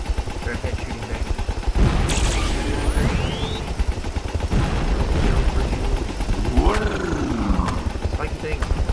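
Pyrocopters in the flying game Sky to Fly: Faster Than Wind roar through a loud, dense barrage of engine drone and rapid gunfire, with whooshing projectiles and swelling pitch sweeps as aircraft pass by closely.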